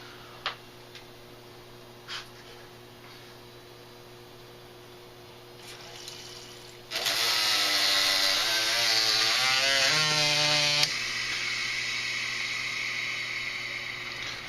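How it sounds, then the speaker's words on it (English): Source water is switched on in a Puratek 100 water purifier. After several seconds of near-quiet with faint ticks, a loud rush of flowing water starts abruptly, carrying a wavering mechanical whine, then settles into a steady hiss. "I'm going to go ahead and turn the source water on."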